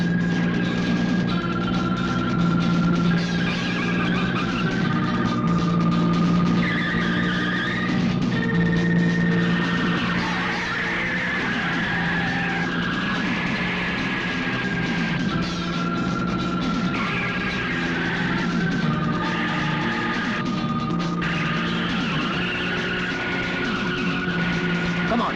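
A car speeds hard through a chase, loud tyres squealing and skidding in long sustained screeches over a steady engine roar, with a dense, busy mix throughout.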